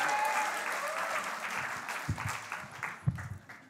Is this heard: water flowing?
no